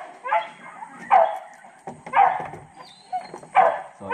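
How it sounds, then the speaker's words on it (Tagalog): A farm dog barks four times in a steady, evenly spaced series, each bark loud and close with a whiny edge, on a rural property at rice harvest time. "Narinig yung ano, tahol ni Andy"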